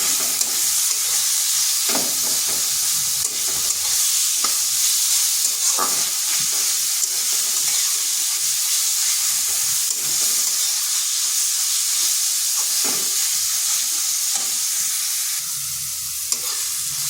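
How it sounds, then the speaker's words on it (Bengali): Pointed gourd (potol) fries in a pan over low heat with a continuous, even hiss of oil that runs the whole time, broken by occasional soft knocks from stirring, and no talking. "আঁচটা স্লো আঁচ করে পটলটাকে ভেজে নিচ্ছি"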